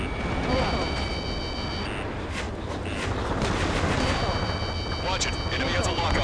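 Missile warning beeps and missile launches in the Ace Combat 7 flight game: steady high warning tones, then a break, then tones again, over a roaring engine and explosion bed, with talk layered on top.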